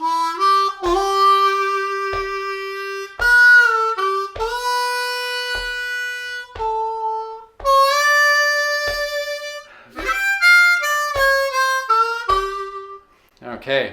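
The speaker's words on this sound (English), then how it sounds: "So lick 2 starts on beat 3." A C harmonica plays a slow, bluesy Amazing Grace phrase, with sustained reedy notes, bends and short breaths between them, solo and close.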